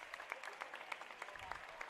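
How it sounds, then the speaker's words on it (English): A gym crowd at a volleyball division championship claps for both teams, with scattered, distinct claps at moderate distance and fairly faint overall. "let's give both these teams another round of applause"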